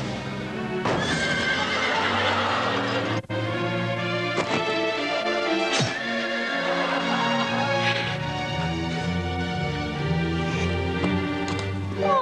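A horse, voiced as a centaur, neighs and whinnies loudly over steady clip-clopping hooves and a busy background that continues throughout.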